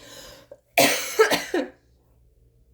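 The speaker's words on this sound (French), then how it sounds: "ça se peut que je vous ai dérangé avec ma toux" A woman still ill with flu coughs a few times in a close, harsh burst, then it falls quiet.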